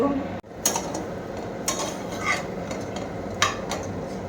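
Bitter gourd, potato and fish being sautéed and stirred in a pan for shukto, with a steady soft sizzle under repeated scrapes and clinks of a utensil against the pan.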